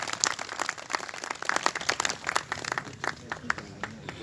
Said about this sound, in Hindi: इसके लिए आप लोगों को बहुत जोरदार तालियों से उनका स्वागत आपको करना चाहिए।